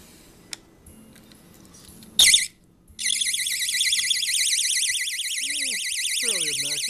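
A cheap water alarm buzzer rigged to a washing machine lint filter gives a short harsh burst, then sounds a loud, piercing electronic warble that continues steadily to the end. A voice is heard faintly underneath.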